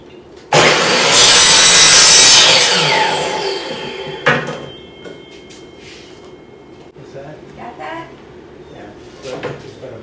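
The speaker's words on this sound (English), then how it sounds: "we got to cut out 4 pieces of wood to go around the inside frame" A handsaw cutting pieces of wood for a van's inside frame during a roof fan install: a loud burst of rasping strokes for a few seconds, then lighter scraping and knocks.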